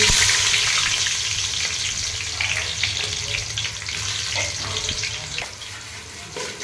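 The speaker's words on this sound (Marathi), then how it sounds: "हम परतून घ्यायचा कांदा आता" Onion fries in hot oil for egg biryani, a loud, dense sizzle up close. It eases slightly in volume over the few seconds, with some faint stirring underneath.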